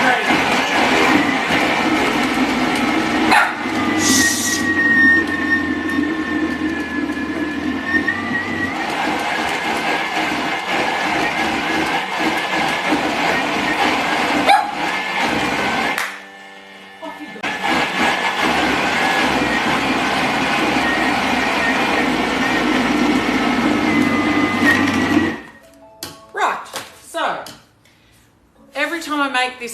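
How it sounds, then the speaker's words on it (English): A Thermomix chopping frozen fruit for fruit gelato gives a loud, continuous motor roar with a grinding rumble for about 25 seconds, then stops abruptly. A person talks over the noise. "This one, we're chopping up frozen fruit and making an ice cream."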